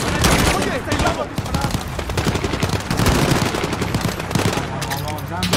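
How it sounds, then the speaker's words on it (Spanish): Dense gunfire with rapid machine-gun bursts and overlapping shots fills the scene loudly and continuously, with shouting voices mixed in. "¡Nos disparan desde la residencia!"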